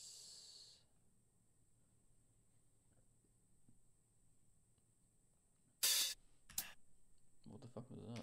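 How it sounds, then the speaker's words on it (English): A breathing sound sample plays in pop music production software: a quiet stretch followed by a few short, sharp, breathy bursts and snort-like hisses, close and dry. "Sounds like someone breathing."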